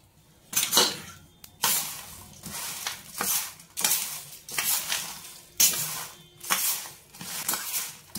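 Poha namkeen frying in a pan is stirred with masala, giving repeated rhythmic scraping and rattling strokes of a spoon against the metal, about one each second, over a faint sizzle.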